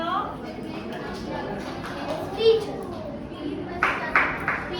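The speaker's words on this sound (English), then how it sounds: "Clap for him." Children clapping in a church holiday Bible school session, a short scattered burst near the end following quieter room noise, with children's voices and an adult speaking around it.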